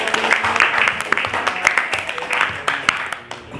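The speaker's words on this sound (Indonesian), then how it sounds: "tepuk tangan untuk" Applause from participants and speakers at a sociology classroom discussion session, a dense, steady patter of many hands clapping close by for several seconds, with voices mixed in underneath before it thins toward the end.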